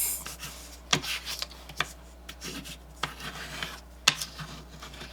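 Unwrapped crayon dragged sideways across paper, giving soft raspy rubbing strokes with several sharper scrapes spaced irregularly, close and fairly quiet.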